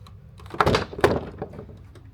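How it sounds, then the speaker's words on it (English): A cabin door swung shut, giving two solid thunks about half a second apart followed by a faint latch rattle, close by with no talking. "Go ahead and close that door on up."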